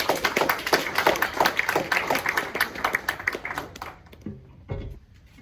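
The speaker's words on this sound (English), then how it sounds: "Please give it like a big round of applause right here." Audience applause for a speaker at a tech demo event, dense clapping for about four seconds that thins out and fades, with a voice briefly heard near the end.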